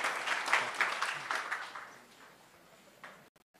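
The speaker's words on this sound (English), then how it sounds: "Give this man a round of applause for his love of the history of this city." Brief, fairly faint applause from a crowd at a Springfield, Ohio town hall, tapering off after about two seconds into quiet.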